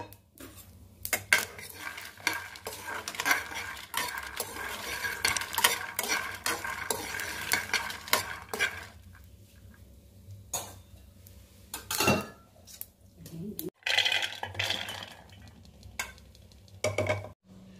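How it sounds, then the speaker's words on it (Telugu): Peanuts and green chillies fry in a pan while a utensil stirs them, giving irregular scraping and clinking knocks over a soft, quiet sizzle, with short pauses between bursts of stirring. "అదే పల్లీలు కూడా వేయించుకోవాలండి."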